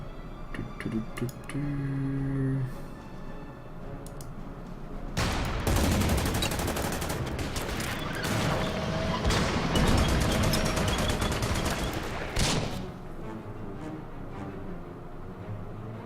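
Artillery fire in the strategy game Order of Battle: Panzerkrieg at Sevastopol: a dense, loud burst of rapid gunfire and booms lasting several seconds, preceded and followed by quieter clicks and tones.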